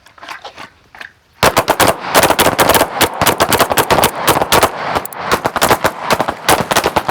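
Pistols firing at an outdoor shooting range during training, a dense string of loud, sharp shots from several shooters, overlapping and irregular, after a quieter opening second.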